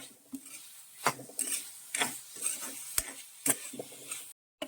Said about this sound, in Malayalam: ഉള്ളിയും കൂടി ഒന്ന് വഴറ്റിയെടുക്കുവാണ് ആദ്യം തന്നെ